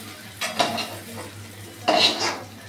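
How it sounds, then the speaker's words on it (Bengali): Fried soya chunks are stirred and lifted from a frying pan with a metal utensil, two sharp scraping clatters standing out over a faint, steady sizzle nearby. "লাল করে ভেজে আমি নামিয়ে দিচ্ছি"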